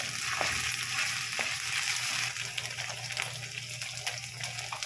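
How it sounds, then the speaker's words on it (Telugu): Onions, ginger and garlic frying in oil in a pan give a steady, close sizzle and crackle with faint stirring scrapes, no talk over it. "పేనం పెట్టిన నూనె పోసుకున్నా, ఉల్లిగడ్డలు వేసుకున్నా, ఉల్లిగడ్డలు, అల్లమెల్లిగడ్డ"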